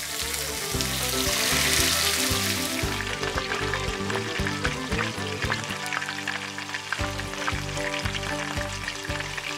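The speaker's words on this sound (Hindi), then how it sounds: "आवाज़ तो बढ़िया आ रही है, सिज़लिंग।" Fish frying in hot mustard oil for a masala fish curry, with a loud, dense, crackling sizzle and intermittent clatters in the pan throughout.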